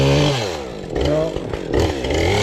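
Chainsaw cutting through a fallen log across a hiking trail in the Northern British Columbia mountains near Hedrick Lake, the engine droning loud and close with rising and falling pitch as the chain bites into the wood.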